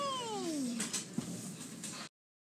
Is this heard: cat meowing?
yes